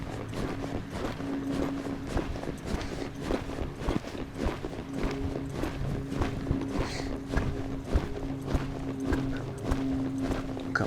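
Heel horse loping to the right in an arena, a steady rhythmic run of close hoofbeats thudding throughout, fairly faint and continuous, without any talking.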